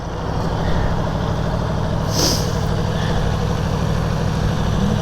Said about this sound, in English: Engine sounds great.